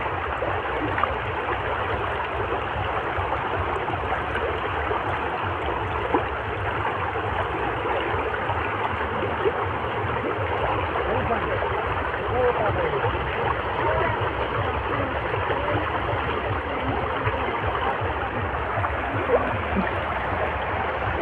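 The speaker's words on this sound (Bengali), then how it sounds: "অল্প জল কিন্তু স্রোত রেগেছে তো" Strong current of the shallow Damodar river rushing steadily and loudly near its split into the Damodar and Mandeshwari, a broad continuous wash of flowing water with no break across the whole stretch.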